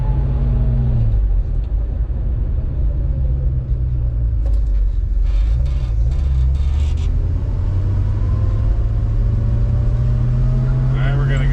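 A 1966 Ford Mustang with a Sniper EFI system drives along, its engine giving a loud, close, continuous low rumble that shifts in pitch as it runs, with a voice heard briefly over it.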